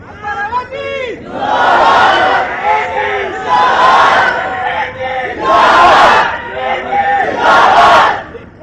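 A large crowd at a political rally chants slogans in loud, repeated rhythmic bursts, voices rising and falling in waves with brief gaps between the shouted phrases.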